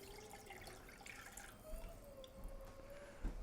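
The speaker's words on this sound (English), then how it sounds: "So I throw a sieve over my pot and pour that in." Turkey drippings poured through a sieve into a pot, a steady close trickle and splatter of liquid with a few louder splashes toward the end.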